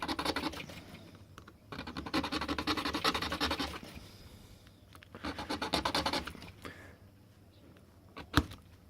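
A metal file rasping across a key blank while cutting depths by eye for a T-handle lock, heard in two long bursts of rapid strokes with a pause between and a sharp tap near the end.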